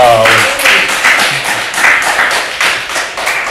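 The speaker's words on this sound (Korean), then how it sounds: "하나님께 영광의 박수 올리겠습니다" During Sunday worship at a church, the congregation claps in praise. It comes as a series of rhythmic bursts of hand clapping, loud and close, while voices can be heard faintly beneath.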